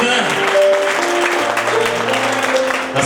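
Wedding guests applauding the groom's mother at a Bulgarian celebration, a short burst of clapping mixed with music playing and voices nearby.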